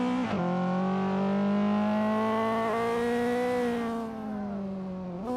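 Race car engines in the Assetto Corsa sim, screaming at high revs through a touge run, with a sustained loud harmonic whine that drops briefly on gear shifts and climbs again, close and continuous.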